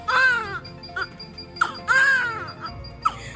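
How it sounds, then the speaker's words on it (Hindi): A newborn baby boy in a hospital delivery room cries in repeated rising wails with short breaths between them, loud and close, filling the whole stretch. "जब बेटे की पहली रोने की आवाज़ सुनी"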